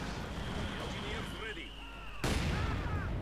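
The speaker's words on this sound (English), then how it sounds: "Both units are falling back as mortar rounds threaten to, well, basically wipe all out." Mortar rounds exploding in the World War II strategy game Company of Heroes 2, heard as dense rumbling blasts and distant gunfire with a loud new impact near the end, under a commentator's voice.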